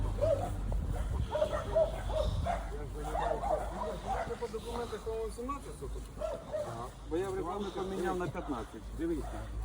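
Dogs at a neighbouring house in Ukraine bark in repeated yips and woofs, heard under steady conversation close to the microphone.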